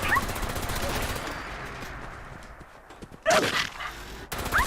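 Rapid bursts of video-game gunfire from Fallout 76 sound in close, dense volleys. They ease into a quieter lull, then return in a sharp loud burst and another volley near the end.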